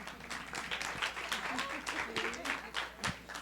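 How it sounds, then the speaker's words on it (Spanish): An audience at a talk on political communication claps in a brief, uneven round of applause, with distinct claps and people talking over it. "Un aplauso."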